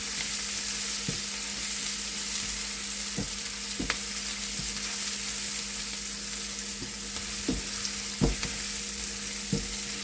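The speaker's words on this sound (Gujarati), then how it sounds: "તે બ્રાઉન કલરની થાય ત્યાં સુધી આપણે હલાવીશું" A frying mixture for an orange-peel curry is stirred in a pan until it browns, a steady close sizzle broken by sharp scraping clicks of the spoon every second or so, with no one speaking.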